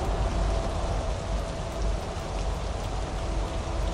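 Realistic rain in the Truck Simulator Europe 3 mobile driving game gives a steady, dense patter of raindrops over a low rumble, continuous and fairly loud with no talking.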